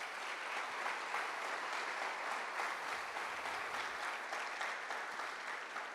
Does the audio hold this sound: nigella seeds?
no